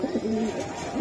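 Giribaz pigeons with green necks cooing close by, a soft low rolling coo repeated within a brief moment, with people talking faintly in the background.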